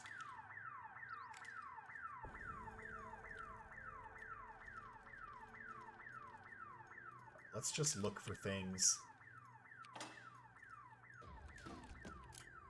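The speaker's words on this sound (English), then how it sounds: "Of course I set off the alarm." Car alarm in the video game Redfall blaring on and off in a steady repeating wail, with a player talking briefly over it and some clattering in the middle.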